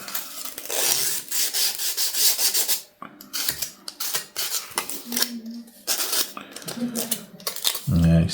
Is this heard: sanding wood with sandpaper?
yes